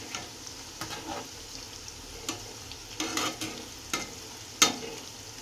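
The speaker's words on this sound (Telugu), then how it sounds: "సో నేనైతే ఇంకా కొంచెం సేపు ఫ్రై చేస్తూనే ఉంటాను" Chicken pakodi frying in a pan: a steady low sizzle of oil with intermittent scrapes and clinks of a spatula stirring the pieces, moderately close and without speech.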